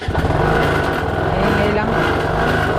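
A repaired motorcycle engine runs steadily close by, a loud continuous rumbling drone with a fast pulsing beat, and a voice speaks over it.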